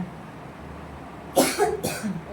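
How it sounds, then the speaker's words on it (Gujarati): Two short, harsh coughs close by, after a quiet stretch of room tone. "ઉધરસ ઉછળી ગઈ"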